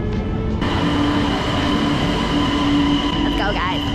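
A train pulling into a station on a trip toward Sweden from Copenhagen, a loud steady rumble of rail noise with a sustained wheel squeal tone, no speech over it.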